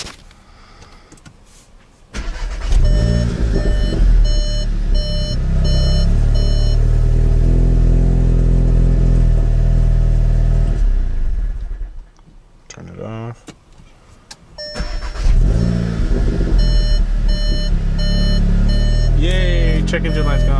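A Volkswagen Mk7 GTI with a tuned DSG gearbox cranks and starts, settling into a steady idle with repeated electronic chimes, then shuts off and is restarted, idling again with more beeps, recorded close up.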